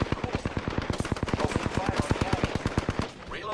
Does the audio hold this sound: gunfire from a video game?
yes